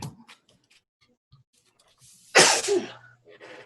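A single loud sneeze bursts out in a quiet board of education meeting room, preceded by faint rustles and a few soft ticks, with a brief trailing breath afterward.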